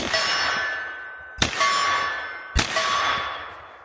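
Bullets from an S&W FPC 10mm carbine strike a steel target at an outdoor range, making two loud, ringing metallic clangs about a second apart, each decaying into a lingering ring.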